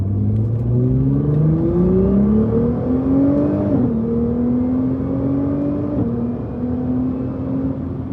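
2022 Nissan GT-R R35 engine heard while driving, revving hard: a loud, close, rising engine howl broken by two quick gear changes, with the pitch stepping down at each change before it climbs again.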